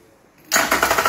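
After a brief quiet moment, a Yamaha F60 EFI outboard motor suddenly fires up and settles into a fast, buzzing, rattling run close by.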